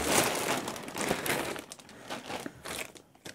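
Plastic bags from a Cada C66007 Summer Breeze Coffee Shop building block set crinkle and rustle close by in a continuous handled burst that tapers off toward the end, with no talking.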